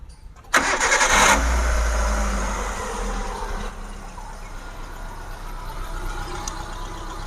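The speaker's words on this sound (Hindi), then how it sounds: "तो खैर अभी इंजन का साउंड मैं आपको सुना देता हूँ। स्टार्ट करना।" A Hyundai Santro, about 13 years old, starts with a sharp crank, catches, and then settles into a steady idle close by with no talking.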